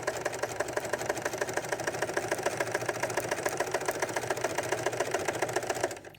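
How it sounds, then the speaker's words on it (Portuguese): A sewing machine runs steadily while stitching the zipper finish on a thermal bag, a loud, close, rapid rhythmic whirr that stops abruptly at the end. "eu vou levar na máquina de costura agora, vou fazer esse acabamento"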